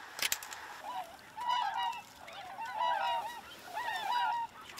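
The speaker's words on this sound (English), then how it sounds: "Beautiful trumpeter swans." Trumpeter swans give repeated honking calls in a series of bugling bursts, moderately distant, heard from a sunken hunting pit in open waterfowl country.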